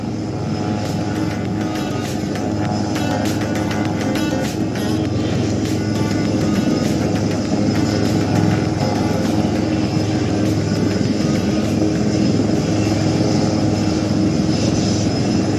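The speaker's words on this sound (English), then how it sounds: "We are standby for the Surya Kiran aerobatic team takeoff." Surya Kiran aerobatic team aircraft taking off at the Aero India air show in Bengaluru, a steady, loud engine roar that holds for the whole stretch with a constant hum of crowd and wind beneath it.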